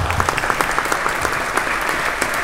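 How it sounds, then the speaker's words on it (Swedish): An audience claps steadily, a dense, continuous round of applause at moderate loudness with no voices standing out. "Det behöver ni absolut inte applådera för,"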